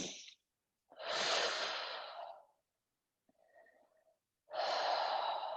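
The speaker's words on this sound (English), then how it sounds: "Just take some deep breaths here." Three slow, deep breaths taken during a vinyasa yoga flow: a long airy inhale, a fainter pause, then another full breath, close and alone with no talk.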